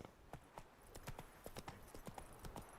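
Roach, Geralt's horse in The Witcher 3, gallops with quick, rhythmic hoof clip-clops that sound close and fairly quiet, the beats repeating steadily from start to finish.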